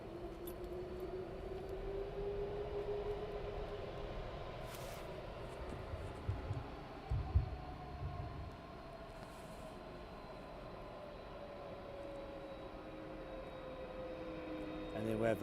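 At night at East Midlands Airport, an aircraft taxis out with a faint, distant whine and a low rumble that slowly rises and falls, and a brief thump sounds partway through.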